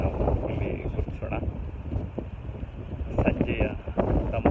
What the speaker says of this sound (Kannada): ಸಂಜೆಯ ತಂಪಾದ ಗಾಳಿ ಬೀಸ್ತಾ ಇದೆ ಅಂತ ಕೂಡ ನಿಮಗೆ ಕೇಳಿಸ್ತಾ ಇರ್ಬೋದು